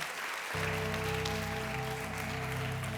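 Church congregation claps to praise the Lord at a stadium service, a faint steady patter that keeps going after sustained worship music comes in beneath it half a second in.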